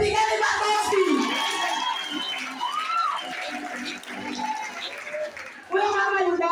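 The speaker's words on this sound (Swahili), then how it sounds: "Pigeni makofi." Church congregation clapping and cheering in bursts under a preacher's speech, with a swell of applause at the start and again near the end.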